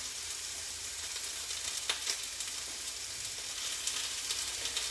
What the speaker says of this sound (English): squeeze the lime